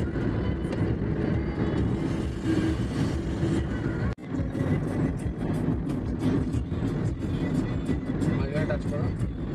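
A car drives at night along the NH 18 single-lane highway toward Kharagpur via Jamshedpur. A steady, close rumble of road and engine noise fills the cabin under ongoing conversation, dropping out for a moment partway through.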